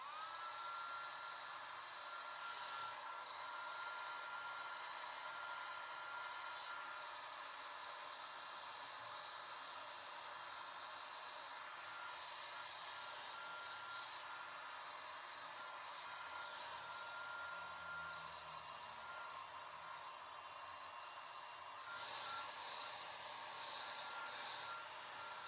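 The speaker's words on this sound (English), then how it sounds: "I also just feel so bad for my neighbors having to hear my blow dryer." A blow dryer drying hair, a continuous airy whir and rush at low level that stays steady for the whole stretch, with slight changes as the airflow moves and no talking.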